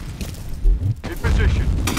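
A grenade explodes in a video game with a deep, close boom, followed by a second low rumble, as a voice talks over the action.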